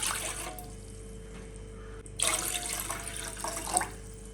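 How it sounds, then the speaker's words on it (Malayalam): Tender coconut water poured from a cup into a saucepan on a stove, a steady liquid trickle with a louder splashing surge partway through, close and alone with no talk. "ഇതിലേക്ക് 2 കപ്പ് ഇളനീരിൻ്റെ വെള്ളം ഒഴിച്ചു കൊടുക്കാം."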